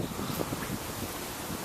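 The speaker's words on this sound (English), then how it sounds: "The wind's starting to pick up, 30, 20, 30 miles an hour." Gusty wind roars steadily across the microphone during Hurricane Irene, a loud continuous rushing with no voices present.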